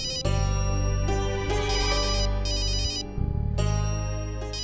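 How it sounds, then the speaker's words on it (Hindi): A mobile phone ringtone plays a loud electronic melody in repeating phrases, with a brief dip near the end before resuming, and no talking over it. "ओ, मेरे बॉस का फोन है।"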